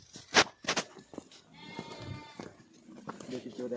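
Sheep in a Himachal Gaddi shepherd's herd bleat among bushes, several short nasal cries up close at the start and then scattered, fainter bleats, with someone talking over them.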